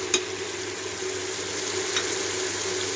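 Masala with tomatoes and chana dal sautéing in a pan, a steady close sizzle and fry with faint stirring, no talking.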